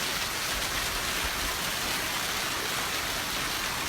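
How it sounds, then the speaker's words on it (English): Golf-ball-sized hail pounding down in Brazil, a dense, steady roar of impacts without pause, broad and loud throughout with no voices. "And this is golf ball sized hail, in Brazil."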